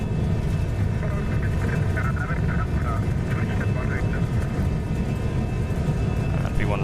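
Jet engines of a Toliss A319 airliner at takeoff thrust in the X-Plane 12 simulator, a steady, dense roar that holds constant throughout.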